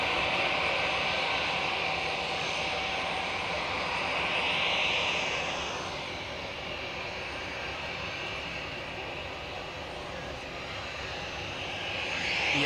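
Airliner taxiing at Zurich Airport, a steady broadband jet-engine roar that stays loud throughout with a slight swell near the start and end, heard from a nearby spotting position.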